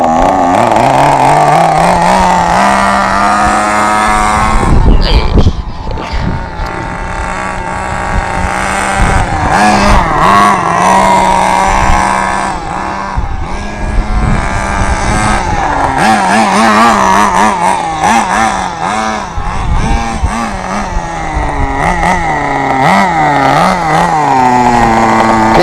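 A Thunder Tiger SSR 4WD nitro RC car engine runs rich, buzzing loudly and close, with repeated revs rising and falling and a brief sharp burst partway through.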